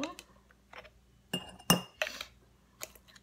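Metal teaspoons clink against a measuring container while cumin is measured out, a few separate bright clinks spaced apart, close and moderately loud, with a quiet kitchen background.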